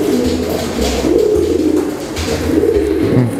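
Young pigeons cooing in an open loft, a close, loud run of soft, throaty, repeated coos with no talk over them.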